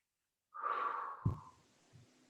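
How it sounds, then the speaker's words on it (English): A single person breathes hard during an exercise class, a long audible exhale followed by a sharp snort-like intake and a softer trailing breath, close and quiet with no speech. "Good, I heard someone remembering to breathe"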